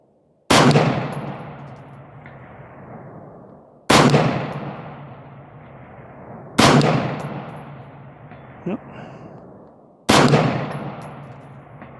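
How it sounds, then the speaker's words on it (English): .223/5.56 rifle firing at 20 lb steel plate targets 440 yards away, four loud, sharp shots a few seconds apart, each with a long fading echo, plus one faint distant tick between them. "I'm trying to shoot these heavier targets"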